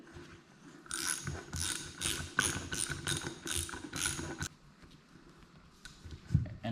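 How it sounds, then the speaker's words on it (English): Rapid ratcheting clicks in quick bursts as a nut is run up and tightened on a custom car's front end assembly, close and mechanical, followed by quieter handling noises. "then thread the nut through the bottom. You can see it coming in."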